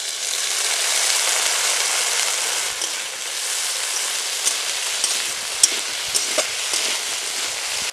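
Ginger paste hits a hot pan while a Bengali kalmi shaak dish cooks, giving a loud, steady hiss of sizzling oil with faint stirring scrapes, with no voices.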